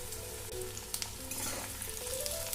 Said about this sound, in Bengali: এরপর আমি আলুগুলো পেঁয়াজের সঙ্গে একটু ভেজে নেব।